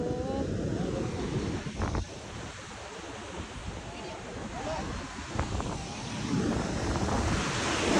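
Sea waves washing onto a beach, a rolling wash of surf mixed with gusty wind rumbling on the microphone, with people's voices in the background.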